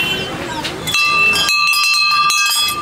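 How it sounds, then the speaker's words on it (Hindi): A metal temple bell rings sharply several times in quick succession at Tapkeshwar Temple in Dehradun, bright and close, its tones lingering between strikes. "यहाँ से बजाते हैं सबसे पहले घंटी"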